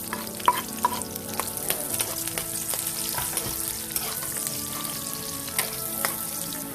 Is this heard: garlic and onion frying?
yes